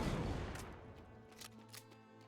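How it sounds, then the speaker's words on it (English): Gunfire in the fantasy roguelite Guns & Dragons as treasure chests are shot down: a loud burst opens, then several rapid shots crack in quick succession and fade, with no talk over them. "So I'm gonna shoot them down every time."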